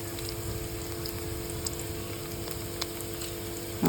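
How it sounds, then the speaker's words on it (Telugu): Chicken frying with onions and chillies in a pan, producing a steady, moderate sizzle with occasional small pops and stirring noises, with no talk. "నేను ఇప్పుడు చికెన్ వండుతున్నాను"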